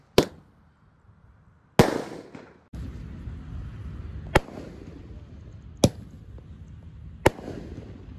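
Five-shot firecrackers going off in a wok: a sharp crack, then a louder burst, then three more evenly spaced bangs over a hissing, crackling background, close and loud with no talk.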